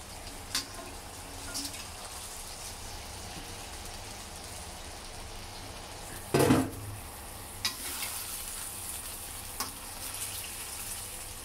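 Salmon pieces frying in hot oil for a sambal: a soft, steady sizzle under occasional clinks and stirring knocks, with one louder clatter midway.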